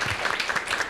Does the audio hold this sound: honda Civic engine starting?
no